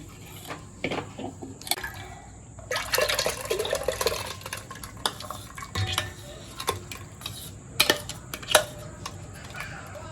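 Churned butter and buttermilk poured from a mixer jar into a vessel at home: wet sloshing and splashing with scraping and clinks of the jar against metal, in uneven bursts throughout.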